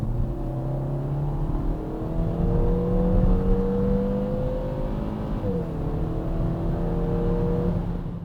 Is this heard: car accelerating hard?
yes